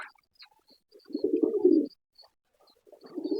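A pigeon coos nearby in low, throaty rolling bursts, two distinct coos separated by a quiet pause, with faint rustling around them.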